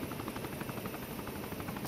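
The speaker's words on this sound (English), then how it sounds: "Helicopter." A helicopter's rotor drones and thumps in a continuous, loud, steady beat, heard from inside or very near the aircraft during a military special-operations training exercise, with no talking.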